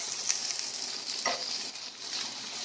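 Meatballs sizzling steadily in a frying pan, a constant bright hiss with a few soft scrapes and a light knock as one is turned over, close and alone without talk.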